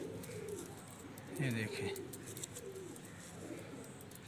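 Kaal noky low flyer pigeons cooing nearby in a loft, a few soft throaty coos rising over faint background noise while someone speaks briefly.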